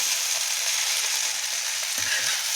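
Okra slices fry on a flat tawa until crisp, making a loud, dense, unbroken sizzle that holds steady from start to end.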